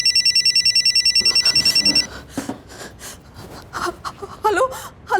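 A mobile phone belonging to a kidnapped boy's mother rings with a rapid electronic pulsing tone for about two seconds, then stops, and muffled shuffling and brief vocal sounds follow.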